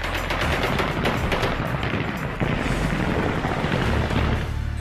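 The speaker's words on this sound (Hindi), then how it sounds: "काबुल एयरपोर्ट और काबुल की सड़कों पर तालिबान ने गोलियां दागकर जश्न मनाना शुरू कर दिया" Continuous crackling celebratory gunfire by Taliban fighters in Kabul, many shots overlapping into a dense barrage with a low rumble beneath, heard from a distance.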